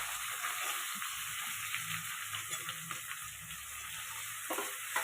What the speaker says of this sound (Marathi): कांदे इथं मी पातळ पातळ कट करून घेतलं कांदे टाकले